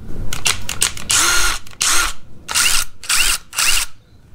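A Skil ID573901 impact driver running on its high setting fires in several short, loud bursts close by, with brief pauses between trigger pulls and a longer hammering run in the middle.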